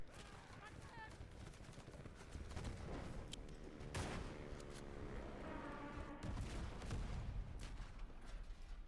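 Rifle volleys crack in the First World War video game Over The Top: WWI, with sharp shots and bursts of battlefield fire layered over rumbling booms, some loud and close, others further off.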